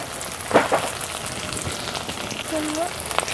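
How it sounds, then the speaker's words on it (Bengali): Tomato with ginger and green chilli paste fries in a pan, giving a steady close sizzle with a few soft stirring bumps. "টমেটোর সাথে আদা কাঁচা লঙ্কাটা একটু ভেজে নিই"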